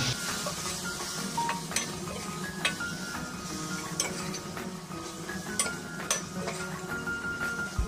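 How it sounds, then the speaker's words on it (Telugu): Turmeric, chili powder and garam masala being stirred into a pan of egg curry, with steady scraping and light metallic clinks of a spoon against the pot under a soft sizzle throughout. "కొద్దిగా పసుపు, కొద్దిగా కారం, గరం మసాలా వేసి ఇవన్నీ కలుపుకుంటున్నాం"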